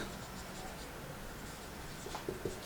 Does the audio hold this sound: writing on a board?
yes